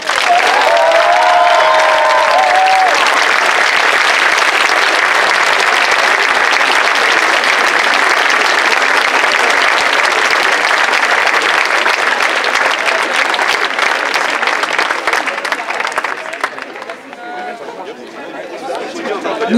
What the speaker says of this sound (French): Je vous demande d'applaudir Camille Chanteux et Alexander Stov